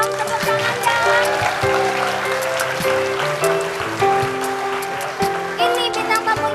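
Applause from a studio audience on an Indonesian television talk show as a guest is brought in, steady and loud throughout, mixed with music and voices.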